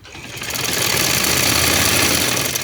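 An electric sewing machine stitching a shalwar, its motor quickly ramping up to a loud, steady rapid whir and chatter that holds until the end.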